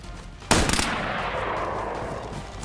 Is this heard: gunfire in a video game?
yes